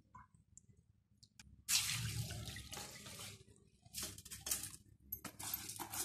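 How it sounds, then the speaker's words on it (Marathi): Washed rice drains in a sieve in a home kitchen, with soft trickling and intermittent splashy bursts of water, quiet and close, no voices. "आता मी हे तांदूळ या चाळणीमध्ये निथळायला ठेवते"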